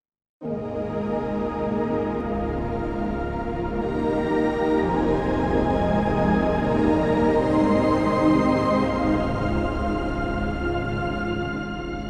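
A sustained, lush synth chord with a soft piano-like layer from Keyscape and a warm pad from Omnisphere and Alchemy swelling underneath, held steadily and fairly loud throughout.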